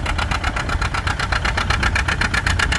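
An antique John Deere B tractor engine runs at a plow day, its loud, close exhaust beating in an even, rapid pulse that holds steady throughout with no voices.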